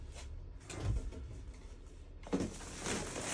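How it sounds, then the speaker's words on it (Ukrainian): A room door is pushed shut in a quiet indoor space during parcel unpacking, giving a soft thud followed by a sharper knock as it closes. Both sounds are faint and brief. "А прикрий, будь ласка, двері."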